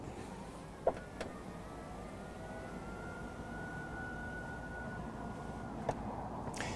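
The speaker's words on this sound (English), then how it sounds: "at the touch of 2 buttons, one for each side, the entire rear third level of seats will fold flat" The BMW X7's third-row seats fold flat electrically: a faint, steady motor whine runs for several seconds inside a quiet cabin, with a soft click near the start and another near the end.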